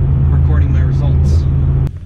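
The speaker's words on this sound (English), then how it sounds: "I've actually left the car on for a little bit while we're not moving." A 2016 Ford Mustang GT V8 idling while parked, a loud steady low rumble that runs close and continuous before dropping off after a sharp click near the end.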